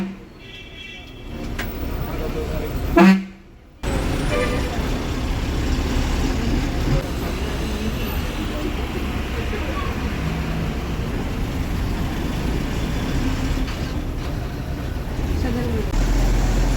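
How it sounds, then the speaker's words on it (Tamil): City road traffic in Tirunelveli during office hours, heard from inside a TNSTC bus: a steady rumble of engines and road noise, with a brief loud horn blast early on, then continuous traffic din. "திருநெல்வேலி டிராஃபிக்கை பாருங்கள்"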